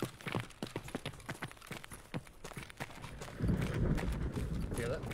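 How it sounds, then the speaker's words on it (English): Footsteps in a video game, a quick run of close, crisp steps in an indoor space, followed by a louder rumble of game noise near the end, with no talk over them. "I heard her footsteps."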